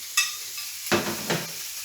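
Dried chili flakes are stirred quickly into a mixture in a kitchen, giving a few brief scraping and stirring strokes, close and fairly quiet, with no talk.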